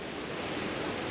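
Snowmelt water flowing under snow into a culvert pipe that empties into a creek, a steady, even rushing wash, close and continuous with no pauses.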